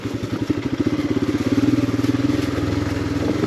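A Royal Enfield Himalayan motorcycle climbing a mountain road off the beaten path, its single-cylinder engine thumping in a steady, throbbing rhythm close to the rider.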